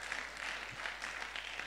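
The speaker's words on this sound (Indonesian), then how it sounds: "Beri tepuk tangan dulu bagi Allah yang luar biasa." Church congregation applauding, a dense wash of many hands clapping at moderate distance, steady through the brief moment.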